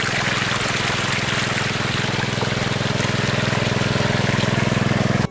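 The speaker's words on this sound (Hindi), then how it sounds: "देखिए पानी वहाँ से जा रहा है" Water pouring from a tanker on a village farm field, a steady, loud rushing gush with a continuous low pump-like hum underneath, unbroken throughout.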